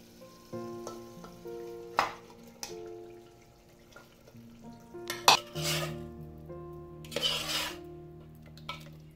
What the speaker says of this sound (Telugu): సో ఇందులోనే నేను ఇప్పుడు మటన్ యాడ్ చేసేస్తున్నాను